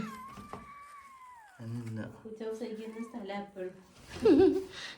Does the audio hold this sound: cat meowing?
yes